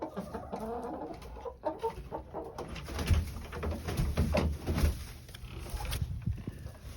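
Molting farm chickens cluck and chatter steadily at close range, with busy overlapping calls and rustling across a short stretch of chore time.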